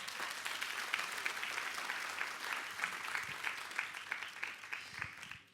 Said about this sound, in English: Can we give Atomy a round of applause?